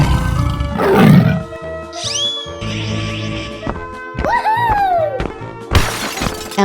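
A tiger in a 3D animal sliding game lets out a roar amid clattering, shattering game effects and rising chimes, all loud and up front with no speech.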